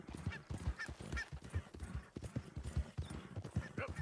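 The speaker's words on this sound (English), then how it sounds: "Me encanta que este caballo tiene una resistencia." Horse galloping in the video game Red Dead Redemption 2, its hooves pounding in a fast, steady rhythm, close up. A few faint whinnies come through, and speech runs quietly underneath.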